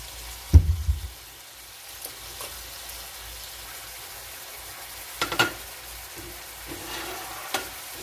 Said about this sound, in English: we're going to let this sear really well